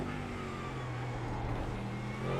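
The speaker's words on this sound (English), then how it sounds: "It's funny how much I rely on the sound of the car" A race car engine in the iRacing sim at Spa drones steadily, a continuous loud hum with a faint rise toward the end and no talk.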